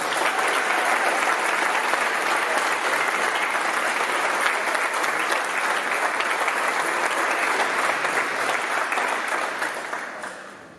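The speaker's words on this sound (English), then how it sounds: "Please join me in a round of applause for our current Hall of Famers." At a college athletic Hall of Fame induction ceremony, the audience breaks into sustained, loud applause, a dense and even clatter of many hands lasting about ten seconds before fading out.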